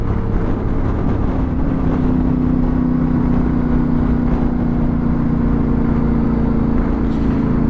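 A motorcycle rides through Sofia city traffic, its engine holding a steady, loud drone mixed with rushing wind noise throughout.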